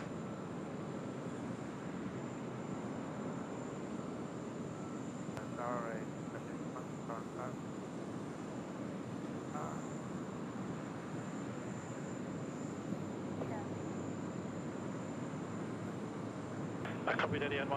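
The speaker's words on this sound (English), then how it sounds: "Etihad on the way out now." An Etihad airliner departs Sydney Airport, its jet roar a steady, broad rumble that holds at an even level throughout, with faint brief voices briefly audible over it.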